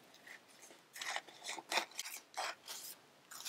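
Scissors cutting excess paper for alcohol ink art, a series of short crisp snips and rasps spaced irregularly, close and fairly quiet with no talk.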